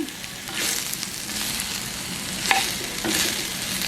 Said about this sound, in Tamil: இப்படியே இடக்கடி எடுத்து கிளறி விடுங்க